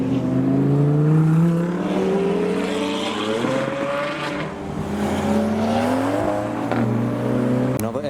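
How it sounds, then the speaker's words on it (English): A Lamborghini Huracan followed by a Ferrari 812 Superfast pull away from a car show, loud engines revving and climbing through gears with sweeping pitch rises, close by, with a sharp pop near the end. "We have the Huracan with an 812 Superfast behind."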